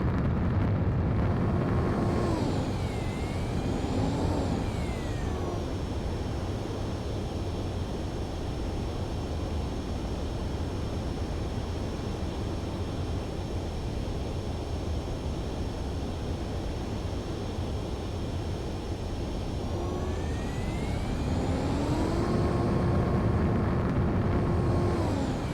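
Fighter jet roaring through its takeoff in Ace Combat 7, a loud, steady broadband engine rumble that holds throughout with a whining tone sweeping at the start and end.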